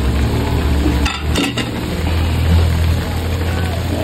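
Eggplant goes into a cooking pot of adobo broth with white sugar, giving a clatter and scrape of utensils against the pot over a steady background hum, with a short burst of metallic clinks in the middle.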